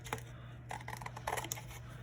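Scissors snip through paper while cutting out star shapes, with a few quiet, crisp cuts in small clusters over a low steady hum.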